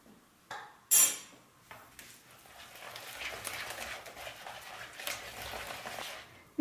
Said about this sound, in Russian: я обычно сначала ложкой замешиваю, а потом венчиком, чтобы комочков не было